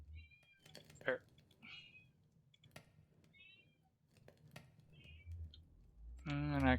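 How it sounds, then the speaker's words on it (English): A pet cat meows several short, faint times in a quiet room, mixed with scattered keyboard and mouse clicks. A louder, harsher sound bursts in at the very end. "And I can hear my cat."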